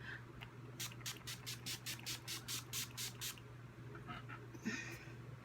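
A rapid series of about twelve short, sharp spritzes of Urban Decay All Nighter setting spray onto a face in a quick even rhythm, close to the microphone, followed by soft rustling.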